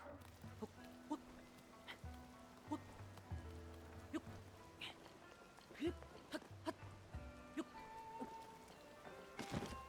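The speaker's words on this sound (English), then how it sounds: "Oh, why did it have to be raining?" Rain falls in the video game Zelda: Tears of the Kingdom, a soft steady patter with scattered drips, faint beneath other game sounds.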